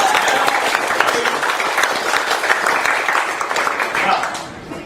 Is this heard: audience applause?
yes